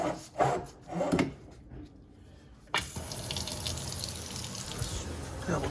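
Water running from a faucet into a sink during a plumbing leak check, preceded by scraping and handling noises before a steady, close, continuous stream starts and runs alone.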